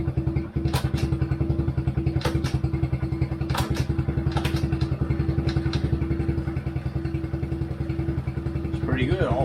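A 2020 Kawasaki KLX110R dirt bike engine runs steadily with a close, loud, rapid-firing putter, shifting up through its gears with brief changes in pitch and a few clunks from the gearbox.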